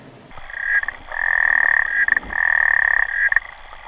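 Frog croaking loudly and close in two long, steady trilling bouts separated by a short break, with no voices present.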